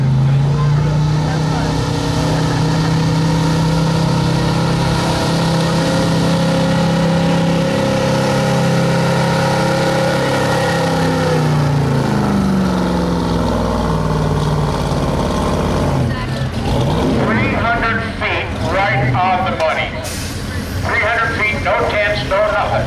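A 1976 Chevrolet pickup truck's engine roars loud and steady throughout a county fair truck pull, its tone shifting as it strains, with a crowd and announcer talking over it toward the end.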